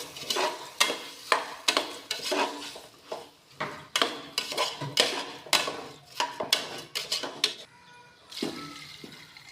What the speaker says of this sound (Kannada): ನೋಡಿ ಅಕ್ಕಿ ಹಾಕ್ಮೇಲೆ ಸ್ವಲ್ಪ ಕೆದಕಿ